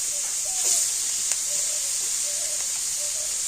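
Grated beetroot and carrot hit hot oil with browned five-spice tempering in a frying pan, giving a steady bright hiss and sizzle that runs close and even throughout, with a few faint clinks.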